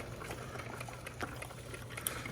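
Water heating to a boil inside a Mr Coffee filter coffee maker, a soft steady bubbling and gurgling hiss with a low hum beneath, faint and continuous with no talk.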